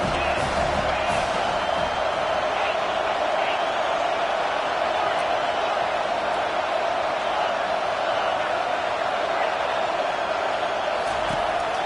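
A stadium crowd at a Texas at Arkansas college football game keeps up a constant roaring wall of noise throughout, under a play-by-play commentator's voice.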